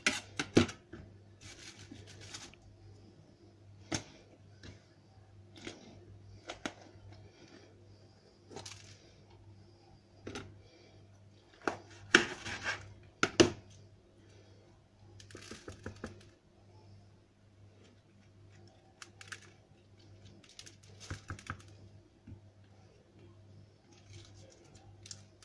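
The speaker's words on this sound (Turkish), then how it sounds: "Sonra küçük küçük doğrayacağım." A knife taps quickly on a cutting board chopping hot peppers, in bursts of sharp, fairly faint chops, with a low steady hum beneath.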